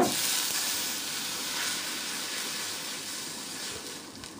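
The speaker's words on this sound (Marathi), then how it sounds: "2-3 हिरव्या मिरच्या टाकलेल्या आहेत। छान परतून घ्यायचं तेलामध्ये।" Green chilies and garlic sauté in hot oil with a steady, close sizzling hiss and faint stirring, without speech.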